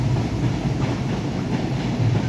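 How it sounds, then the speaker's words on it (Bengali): A Rajbari-to-Kushtia shuttle train passing on a railway line behind a house, a close, steady rumble with rhythmic clattering of wheels over rail joints. "এই যে ট্রেন আসতেছে, এই যে ট্রেন"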